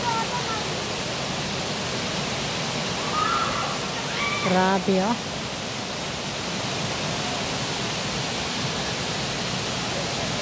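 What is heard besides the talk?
Tumalog Falls waterfall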